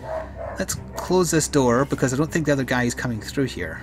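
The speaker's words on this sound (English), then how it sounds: "Apologies for the dog barking so much." A pet dog barks repeatedly in the background while someone talks over it, a run of short, insistent yips and barks recurring steadily throughout.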